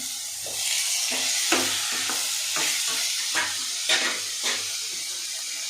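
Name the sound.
tomatoes and onions frying in a pan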